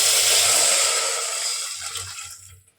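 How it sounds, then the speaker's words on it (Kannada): A close, rushing splash of water poured into a pan of fried onions, loud at first and then tapering off to quiet over a few seconds. "ನೀರು ಹಾಕ್ಕೊಂತೀವಿ"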